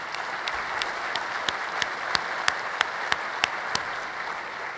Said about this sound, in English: I'd like all of us to give him a round of applause.